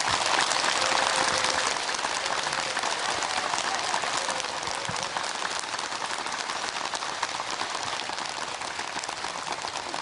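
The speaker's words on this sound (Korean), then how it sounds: "여러분 큰 박수로 함께 해주시기 바랍니다." A large lecture-hall audience applauds to welcome a professor on stage, a loud, dense and steady wash of clapping that holds for about ten seconds with no talking over it.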